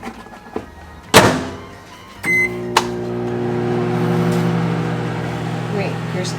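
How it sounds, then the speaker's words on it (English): A steady low electrical hum of a microwave oven starts after a couple of sharp clunks and a brief beep, droning on evenly nearby. "We have a lovely microwave already set to 33 seconds"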